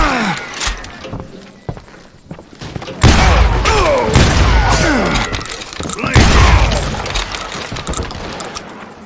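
Gunfire from the Western shooter game Call of Juarez: Gunslinger, loud rapid shots and booming impacts with shattering debris, dense and continuous after a quieter start.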